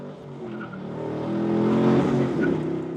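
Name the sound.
2010 Chevrolet Camaro 2SS engine accelerating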